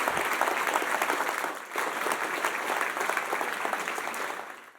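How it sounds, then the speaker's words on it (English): A room full of people applauds, dense steady clapping that holds for several seconds before starting to taper off. "how about a round of applause for all the people involved in supporting our students"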